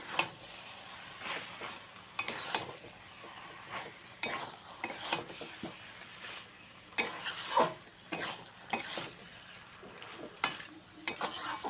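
Red spinach greens mixed with a flour-and-water paste are stirred in a pan, making repeated scraping, clattering strokes of a spoon against metal over a light sizzle, in uneven bursts.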